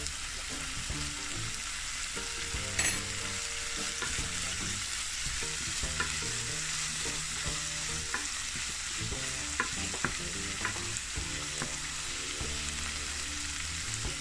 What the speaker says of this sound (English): I'm gonna let this saute a little bit and then I'm gonna add it